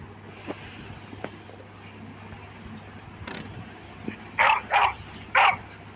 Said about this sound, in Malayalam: ആ പട്ടിയാണ്.